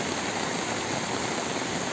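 Heavy rain pours in Cabo Verde, a dense steady hiss of downpour that is loud and unbroken for the whole stretch, with no voices.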